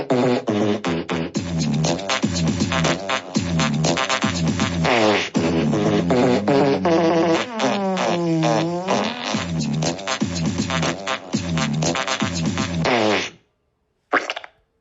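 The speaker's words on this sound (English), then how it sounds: "Presenting before you the Alexa's fart beat box." An Alexa smart speaker plays a fart beatbox: a dense, rhythmic run of loud synthesized farting noises and beats lasting over ten seconds, then a sudden stop and a brief final blip.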